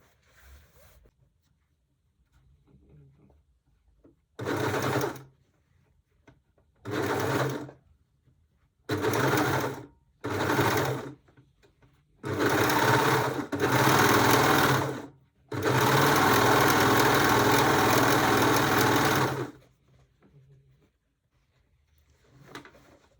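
Sewing machine stitching seams on a pair of pants while mending a hole, running in short bursts at first, then longer continuous runs, close and loud with quiet pauses between.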